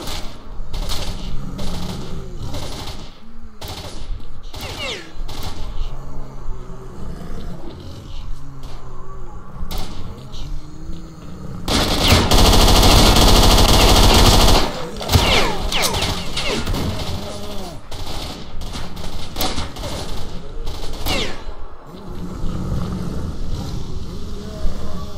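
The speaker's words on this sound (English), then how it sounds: "He uses the machine gun." Machine gun fire in STALKER Shadow of Chernobyl crackles in bursts and single shots, with a louder sustained stretch midway, mixed with gritty rumbles and thuds; no one speaks.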